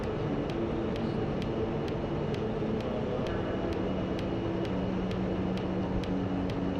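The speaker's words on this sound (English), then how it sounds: "it does take a while to get anywhere in the helicopters" A helicopter in the DCS flight simulator game drones steadily throughout, a dense continuous engine and rotor roar with a faint regular ticking pulse riding on top, loud and unbroken with no voices.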